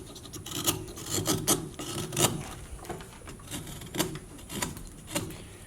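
A hand tool scrapes and rasps along a carved wooden Santa hat, smoothing the surface in repeated close strokes, an uneven rhythm of rough, grating rubs about one or two per second.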